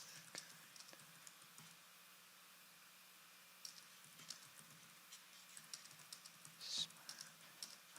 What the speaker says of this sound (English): I'm typing in the lyrics.